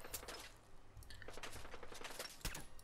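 Gunfire in the Fallout 4 video game, a quiet cluster of rapid shots and cracks in fast bursts, faint and distant-sounding, with one sharper report near the end.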